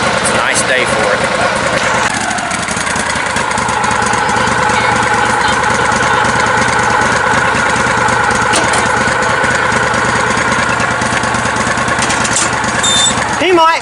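A tractor engine idles at a steady, even rumble before a trail ride off road, running close and loud for the whole stretch, with people talking over it.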